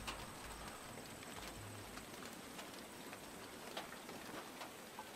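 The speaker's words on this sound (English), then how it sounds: "Just listen to the raindrops." Faint, steady patter of raindrops during a night battle in the World of Tanks video game, quiet and continuous with a low rumble underneath.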